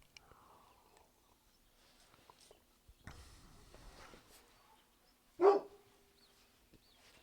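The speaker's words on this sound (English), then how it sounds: "got Ernie playing guard dog" A dog named Ernie, acting as a guard dog, lets out a single loud bark close by, set among quiet shuffling and faint background noise.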